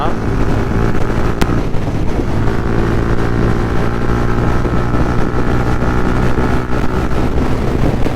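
Loud, constant wind roar buffets the microphone along with road and engine drone from a fast-moving vehicle on a highway in the early morning, steady throughout.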